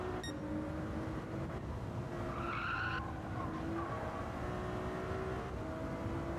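A Ferrari on cold hard tyres skids through a corner in Gran Turismo 7, a sustained high tyre squeal over a steady engine drone, loud and close, with no talking.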